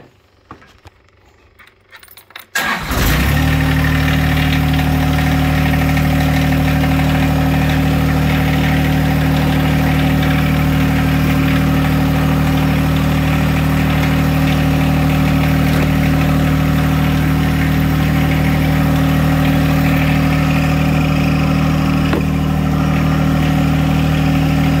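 A John Deere 1025R compact tractor engine starts up and settles into a steady, close, loud idle with a strong low droning hum, running continuously for over twenty seconds without talk.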